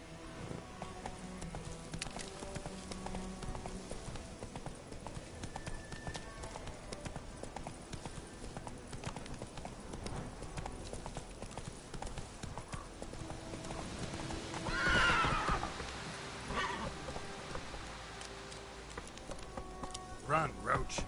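Roach the horse gallops in Witcher 3, rapid rhythmic hoofbeats over game music and ambience with a brief neigh midway, while a player speaks at times over the action.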